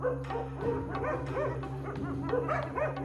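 Several dogs bark and yip at a hyena in Ethiopia, a rapid run of repeated sharp barks and yelps at moderate distance over a low steady background hum.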